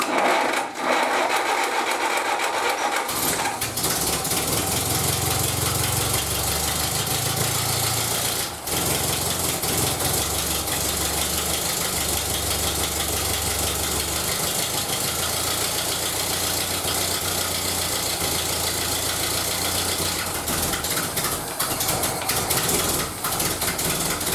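A restored 1931 British Dodge car engine starts and keeps running at a fast, steady, loud rhythm. Its uneven chugging and knocking go on for over twenty seconds.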